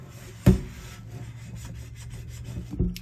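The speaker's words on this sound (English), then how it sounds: "I'm just using a pad with a scrubber on it. So just going to clean this side." A scrubber pad rubs across a new carbon steel pan in a few rough, scraping strokes, one sharp scuff near the start and another near the end, close and fairly loud.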